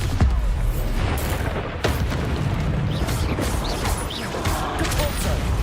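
A Bombarda explosion spell bursts in Hogwarts Legacy, a dull boom under continuous game combat noise and mechanical clatter, fairly loud and dense throughout.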